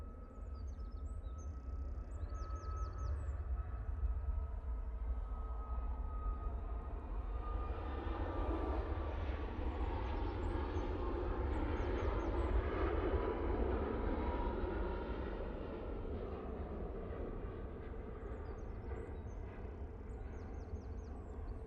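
Ryanair airliner taking off at Manchester Airport, a loud sustained jet engine roar with low rumble that swells in the middle and slowly eases, heard alone without talk.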